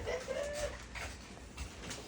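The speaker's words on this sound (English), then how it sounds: "Getting the dogs in there." Dogs whine and yelp briefly outdoors in freezing wind, a short whimper up front followed by scattered soft sounds over a rumbling breeze.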